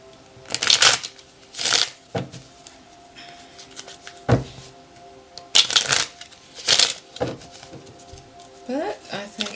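Hands shuffle a tarot deck in quick bursts of riffling and sliding cards, near and crisp, with short pauses and light taps between shuffles over a faint constant hum.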